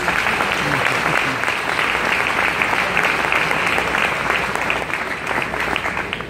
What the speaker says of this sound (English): I want everybody to give themselves a round of applause